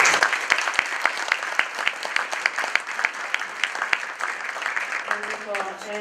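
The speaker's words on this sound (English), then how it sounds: "Can I get one more round of applause for them?" Audience applause for panel speakers at a general membership meeting, a sustained burst of dense clapping that tapers off toward the end as a voice begins over it.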